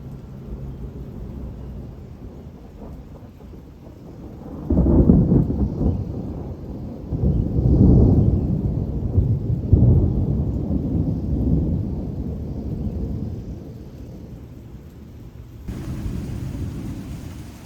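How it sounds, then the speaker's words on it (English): Deep thunder rolls in several long, swelling rumbles over a steady background hiss of rain, loud and fairly close. "So right now it's mostly just thunder, like it usually is. It's usually quite loud."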